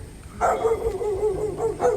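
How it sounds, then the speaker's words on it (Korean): Several dogs bark repeatedly at a house with a lawn, in a residential neighborhood, moderately close, with uneven bursts of barking and yips. "멍멍이들이 많이 짖네요"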